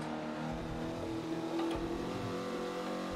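A race car in the video game Forza Motorsport 7 is driven through corners on warm tyres. Its engine holds a steady, moderately quiet hum with slight rev changes and no talking.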